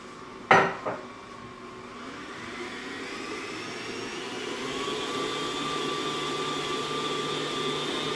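An electric mixer creams a brown sugar crumb topping for a crisp or pie, starting with a sharp knock, then running as a steady whirring hum that slowly rises in pitch and loudness.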